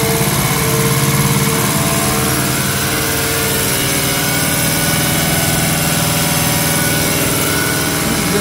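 A diesel injection pump for a Toyota Hilux SR5 2.8 running at 1200 RPM on a test bench: a steady mechanical drone with a rhythmic pulsing whir, loud and continuous, slight dip after the first second, no voices.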